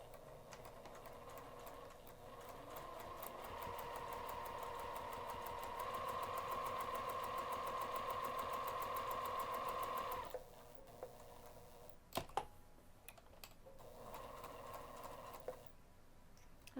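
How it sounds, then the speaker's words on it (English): Sewing machine stitching a rectangular box onto pocket fabric at a 2 mm stitch length, a steady rapid mechanical whir with ticking needle strokes that pauses briefly, with a few clicks, then resumes for another short run. "I'm going to take this over to the sewing machine and stitch directly on top of the lines that I drew to form a rectangular box"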